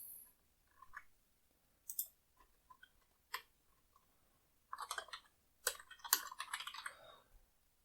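Keystrokes on a computer keyboard as card details are entered, coming in scattered clicks and short bursts with pauses between, close and fairly quiet with no voices.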